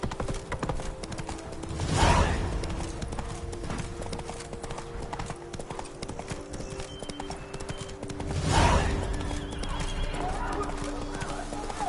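Roach the horse in a Witcher 3 game scene, with hoof clip-clop running throughout and two loud neighs, one near the start and one past the middle.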